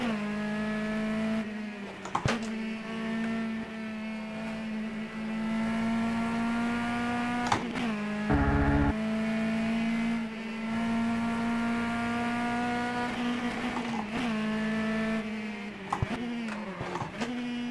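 A Mitsubishi race car in Reiza Studios' Copa Petrobras de Marcas drones steadily at high revs, its pitch dipping and climbing through gear changes with brief sharp blips along the way, loud and continuous with no talk.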